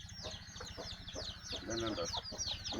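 Native country chickens cluck softly while chicks peep in quick, repeated high chirps on a dairy cattle farm, a busy and fairly faint barnyard chatter.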